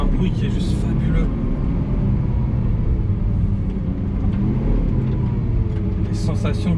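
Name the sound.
Lamborghini Aventador SVJ naturally aspirated V12 engine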